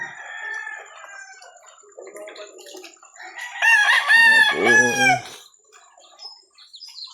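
Rooster crowing and clucking from White Kelso and Boston Allen gamefowl in a small backyard breeding yard, with one loud, close crow in the middle over softer clucks and other birds calling in the background.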